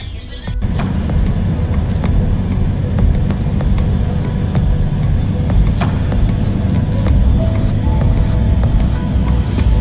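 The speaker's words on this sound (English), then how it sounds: "the bus is coming along now" A bus pulls up to a stop just outside a hotel, its steady engine rumble loud and close, with road noise throughout and a few brief knocks over the top.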